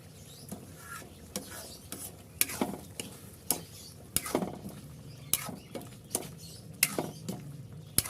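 Spoon scraping and stirring Bicol Express with ampalaya in a pan, a steady run of close, sharp scrapes and clacks every half second or so over a soft sizzle.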